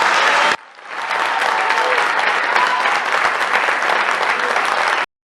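Loud, dense applause from a large audience at a Mexican official event, cut briefly, then resuming as a steady roar of clapping that stops abruptly.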